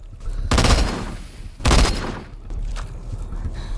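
Two loud bursts of gunfire from the zombie shooter Into the Dead 2, each a dense volley lasting about a second, with a fainter stretch of scattered shots and game noise after them.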